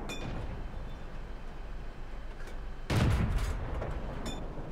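An M24 Chaffee tank's main gun fires once in World of Tanks, a sudden loud boom partway through that rolls into a sustained rumbling tail over steady engine-like background noise.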